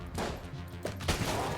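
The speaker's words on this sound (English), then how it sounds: "Ah, grenade!" A grenade blast in the video game Enter the Gungeon, a burst of broad noise followed by a rumbling crackle and a second sharp burst, heard over steady in-game background sound with no voices.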